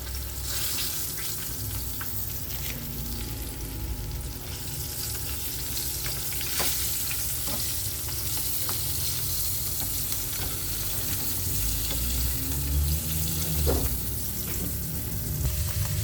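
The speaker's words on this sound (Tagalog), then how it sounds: "kumulo na yan" Law-oy vegetable soup bubbles and simmers in a pot, a continuous close hissing, crackling boil with soft stirring clinks and no talk.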